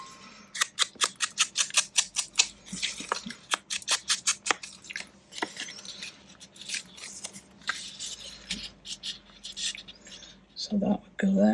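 Scissors snip through paper to trim a file folder tag, a rapid run of crisp cuts in bursts that thin out into slower, scattered snips, close and fairly loud.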